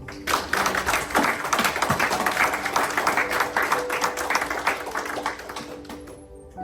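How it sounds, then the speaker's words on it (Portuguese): Church congregation applauding during a worship service, a dense steady wash of clapping from many hands that holds for several seconds and then fades slightly toward the end. "Aplauda ao Senhor."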